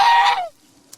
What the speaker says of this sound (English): So the geese have come over here to see me.